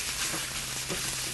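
Ground meat sautéing in regular pure olive oil in a pan on the stove for moussaka, a steady close sizzle with faint stirring sounds throughout, no talking.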